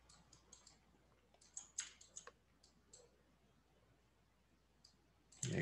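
Mouse clicks in the Houdini 3D software come as faint, scattered, crisp ticks in small irregular bursts over near silence.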